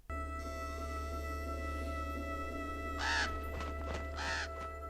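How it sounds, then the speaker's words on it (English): A crow caws twice in a TV show, two loud harsh calls a second apart heard over a constant electronic hum, with no talking. "There's the crow again."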